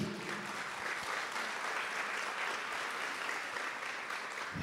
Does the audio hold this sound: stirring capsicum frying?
no